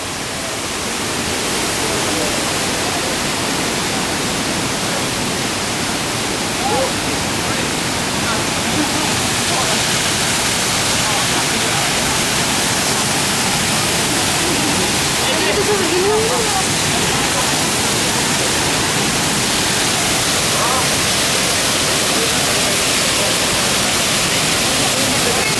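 Düden waterfall in Antalya, Turkey, heard from outside: a steady, loud broadband roar of falling water that fills the whole stretch without pause, with faint voices now and then beneath it.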